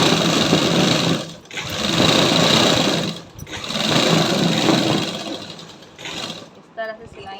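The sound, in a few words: sewing machine stitching salwar leg cuffs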